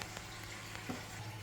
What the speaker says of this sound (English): Alright, so my water is boiling, so I'm gonna go ahead and put my pasta in.